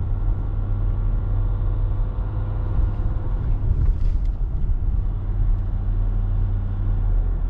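A 2022 Dodge Ram EcoDiesel pickup drives along with its diesel engine giving a low, steady, muted rumble heard from inside the cab, unchanging throughout.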